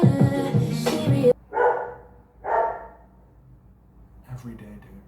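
A dog barks in a neighbour's backyard, two or three separate mid-distance barks after loud music with singing cuts out, then quieter noise near the end.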